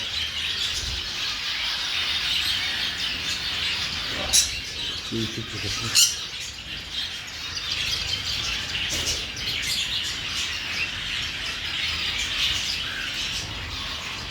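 Many small birds and pigeons chirp and squawk continuously inside a pet shop, with a couple of sharp knocks and brief faint voices.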